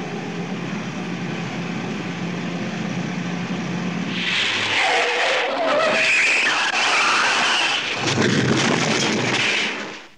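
A car accelerates hard with a broad engine and road roar that swells midway and stays loud and close before dropping off at the end; no one speaks.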